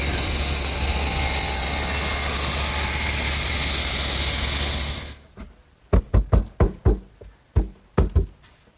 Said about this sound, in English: So I've set up my table saw to make all the bevel cuts with the blade also tilted at 5 degrees